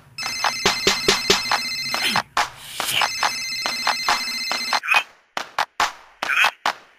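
A phone ringtone melody repeats in a rap song, its bright ringing tones looping over punchy beats and dropping in and out in rhythmic bursts toward the end.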